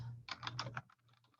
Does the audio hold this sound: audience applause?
no